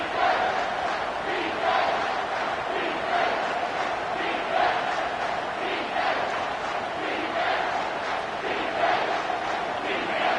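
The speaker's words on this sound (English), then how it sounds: "Decibels rising as the crowd gets behind this defense on 3rd down." Stadium crowd noise from an NCAA college football video game, a steady loud roar with rhythmic swelling pulses of cheering as fans rally behind the defense on third down, continuous with no voices.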